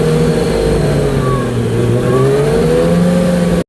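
A Yamaha R1 motorcycle engine accelerating slowly through the gears, a loud, close, steady drone with rising harmonic tones, cutting off abruptly at the end.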